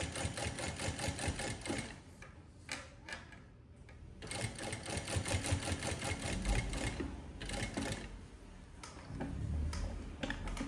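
A sewing machine stitches a seam continuously and loudly, its rapid ticking mechanical rhythm steady throughout with small shifts in intensity, no talking.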